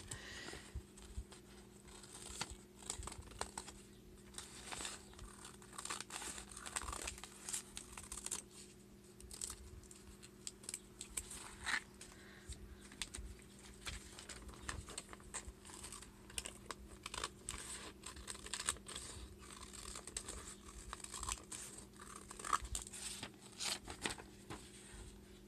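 Scissors cut a paper feather shape in steady, close snips and crisp rustles, a continuous run of small cuts with paper shifting and crinkling between them over a faint hum.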